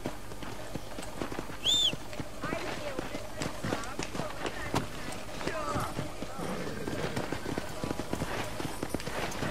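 Hooves of a horse galloping in the video game Red Dead Redemption clip-clop in a quick, steady rhythm, moderately close, with a brief bright game chime early and faint talk over the top.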